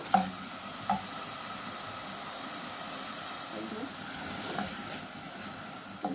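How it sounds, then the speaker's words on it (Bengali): Garlic frying with chilli in a pan for a Bangladeshi-style curry, a steady low hiss of sizzling oil with a few soft clinks of a utensil, continuous throughout. "লঙ্কায় আমি ব্রাউন কালার করে রসুনটা ভেজে নিচ্ছি"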